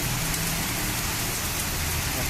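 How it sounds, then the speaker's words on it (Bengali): Heavy rain pours down amid gusting wind just before winter, a dense, constant, loud hiss of drops with no break. "কি পরিমাণ বৃষ্টি। এই বৃষ্টি তো, এরকম বৃষ্টি তো দেখলাম অনেকদিন পর"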